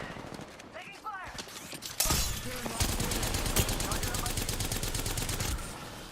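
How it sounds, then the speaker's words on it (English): Rapid automatic gunfire in a multiplayer shooter game, loud and sustained, with dense bursts of shots filling most of the stretch after a quieter opening with faint game sounds. "Taking fire!"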